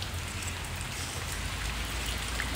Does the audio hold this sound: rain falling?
yes